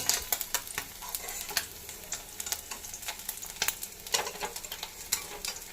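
Fried fish in hot oil for a Bengali morola fish dish gives a continuous close sizzle with sharp spitting pops and crackles at an irregular rhythm, no one speaking.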